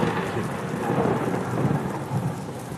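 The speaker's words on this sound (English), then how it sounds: "Hear that rain? Maybe I should add a little bit of thunder." Steady heavy rain with a low rumble of thunder rolling underneath, continuous and dense throughout.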